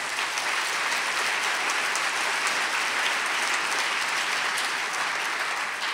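Steady, dense audience applause fills an opening gala hall at the Cinemania film festival, continuous and even from start to finish, with no voices over it.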